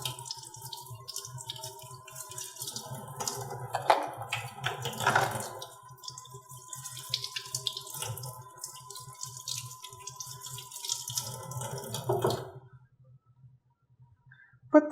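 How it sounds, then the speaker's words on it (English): Tap water runs steadily into a sink while dentures are brushed under it with a disposable brush, a continuous close splashing stream with soft scrubbing, cutting off near the end with no talk. "And brush the dentures with running water."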